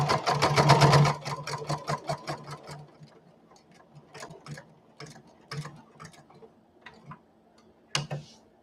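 A sewing machine runs fast through fabric for about a second, then slows to scattered single stitches and ticking clicks with pauses, close and fairly loud.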